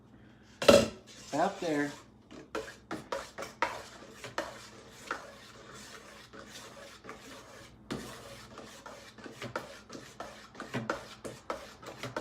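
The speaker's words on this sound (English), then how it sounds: "let's stir some more" A utensil stirs homemade beef tallow, olive oil and pine tar soap in a pot, with repeated scraping and clinking strokes against the metal at an uneven rhythm, close and fairly quiet, and a brief spoken remark partway through.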